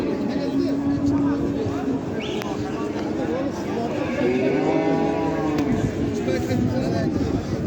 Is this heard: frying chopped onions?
no